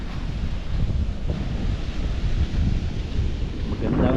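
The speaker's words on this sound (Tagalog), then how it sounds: "Medyo malakas yung hangin." Strong wind buffets the microphone at a seaside fishing spot, a constant roaring rumble mixed with surf wash, steady and loud throughout with no talking.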